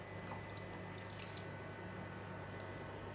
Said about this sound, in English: So I'm going to switch on the heat and put in the chicken.